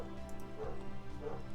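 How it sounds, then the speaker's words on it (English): A pet dog gives two short yips close by, one after the other, over a steady tonal background hum. "That's my dog."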